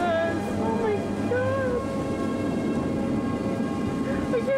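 Tornado approaching with a deep, continuous freight-train roar, loud and steady throughout, with wavering siren-like tones rising and falling over it; excited voices can be heard faintly amid the rumble.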